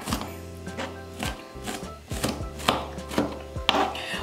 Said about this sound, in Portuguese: eu vou acabar de picar esse aqui